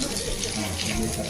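Tap water runs steadily into a sink in a village home kitchen in India, a continuous broadband wash filling the whole short stretch, close and fairly loud.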